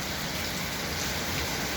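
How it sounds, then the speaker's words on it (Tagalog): Heavy rain pours down in Kuwait, a dense, steady hiss of drops drumming on surfaces close by, unbroken and without voices. "Pagka ganito kalakas ang ulan"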